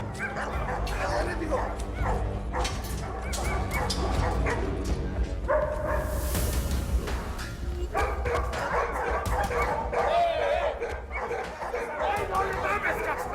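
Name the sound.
dog barking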